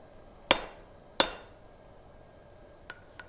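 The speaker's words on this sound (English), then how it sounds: "Grab this little hammer" Two sharp metallic hammer strikes from a small blacksmith's hammer on hot iron during forging, spaced about a second apart and ringing briefly, followed by a couple of faint light clinks.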